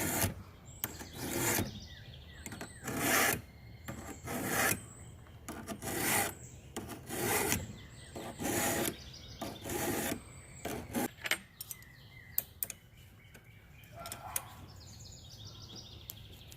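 A hand file rasps across hedge trimmer teeth to remove burrs, producing about a dozen sharp, evenly spaced strokes close to the microphone, then lighter, scattered scrapes toward the end.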